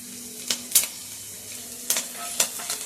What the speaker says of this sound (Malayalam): ഇനി ആദ്യമേ പച്ചമുളക് ഒന്ന് വഴറ്റിയെടുക്കാം